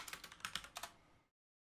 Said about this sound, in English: I'm going to type blue gem